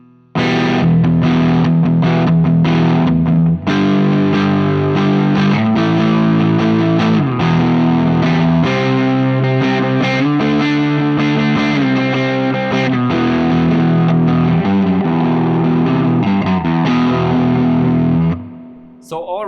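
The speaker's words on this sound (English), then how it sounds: "So here we now get really a little bit of crunch into our tone." Electric guitar crunch tone through a Laney VH100R tube amp with the drive knob about halfway, loud sustained distorted chords played in a steady rhythm for nearly twenty seconds, alone without talk.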